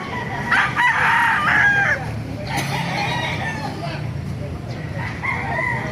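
A White Hatch gamefowl rooster, about eight months old, crows loudly and close by in a long strained call, with a few clucks and calls from other fowl and someone talking softly underneath.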